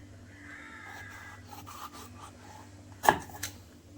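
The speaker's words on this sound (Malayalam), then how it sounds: "അതിൻ്റെ പുറത്തിങ്ങനെ ചീകിയാണ് കേട്ടോ കളയുന്നത്" The skin of a vegetable is scraped off while preparing avial, making soft, close rasping strokes that repeat unevenly, followed by one louder knock-like scrape and a quieter rub.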